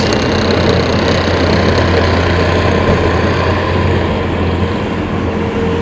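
A 2019 Bobcat T595 rubber track skid steer loader's engine runs steadily and loudly up close, a continuous low rumble with no talk over it.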